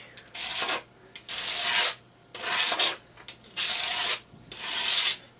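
A half-serrated, half-straight knife blade is drawn across a sharpener in five rhythmic rasping strokes, each about half a second long, with short pauses between them, close and fairly loud.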